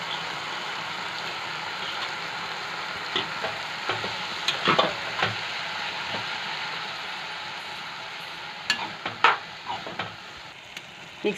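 Vada curry mixture stirred in a hot pan, a steady sizzle with scattered scraping spoon strokes against the metal, close and moderately quiet, with no talking.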